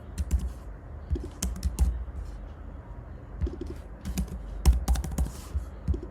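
Code being typed on a computer keyboard in irregular bursts of close, crisp key clicks, with pauses between runs and a faint cooing pigeon somewhere in the background.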